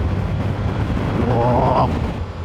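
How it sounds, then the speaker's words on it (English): A Yamaha R7 motorcycle pulls hard in third gear, its engine a steady loud roar mixed with heavy wind rush, with a brief higher whine rising toward the end. "Let's drop back and give it a third gear pull."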